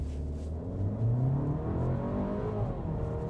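A 2026 Volkswagen Tiguan Turbo launching from a brake-torque start, the engine note rising steadily as the SUV accelerates hard, with a continuous close drone and no talking.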